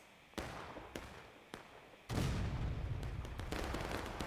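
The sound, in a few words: cannon fire in a video game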